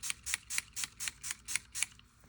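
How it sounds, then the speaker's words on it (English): Walnut spray stain misted from an aerosol can onto paper, heard as eight quick, evenly spaced hissing bursts in a steady rhythm, close and fairly quiet, ending in a brief pause. "I'm now going to use some walnut spray stain, and I'm going to spray some of that on there."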